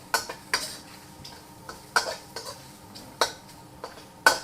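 Scallions are stir-fried in a pan, with a spatula scraping and knocking against the metal in irregular sharp clanks and taps, close and distinct over a quiet background.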